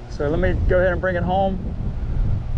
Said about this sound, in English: wow, this wind is really starting to pick up.